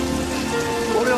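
Steady rain pours in an anime fight scene, a dense, even hiss that runs throughout without pause, with faint tonal background sound underneath.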